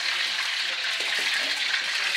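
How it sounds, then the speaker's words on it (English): Battered bananas dropped into hot frying oil set off a loud, continuous hiss and sizzle, with faint low knocks mixed in partway through. "it's time for me to drop some of these bananas in"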